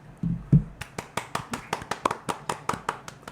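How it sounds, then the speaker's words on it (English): A round of applause for Muay Thai coach Kamanu Ruiz: a steady, fairly quick run of separate hand claps, moderately close and not loud, with a few louder thumps at the start. "So please give a round of applause for Kamanu Muay Thai, Mr. Kamanu Ruiz."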